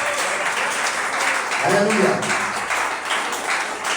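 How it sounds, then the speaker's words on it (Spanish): A church congregation claps during a Spanish-language sermon, producing a sustained patter of applause that swells slightly in the middle, while a voice calls out briefly over it. "Denle ese aplauso al Señor."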